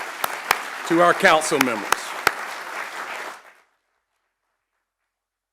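Audience applause at a Medal of Honor Day ceremony in the Mount Pleasant town hall council chambers, a burst of clapping behind someone speaking, then fading out to silence.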